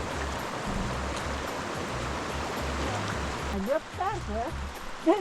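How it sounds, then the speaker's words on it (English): Cold river water rushes and splashes steadily around someone wading across barefoot in the mountains, a close flowing wash with a voice coming in near the end. "we're just crossing the river barefoot, and believe me guys, the water is cold"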